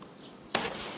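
Honeybees at a hive with a drone-laying queen give off a soft, low hum that jumps into a louder, broadband buzz about halfway through the short moment.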